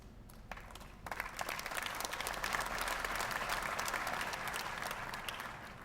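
An audience applauds during President Ramaphosa's election results speech, a steady wash of clapping that swells in after a second and holds at moderate volume, heard from a distance in a large hall.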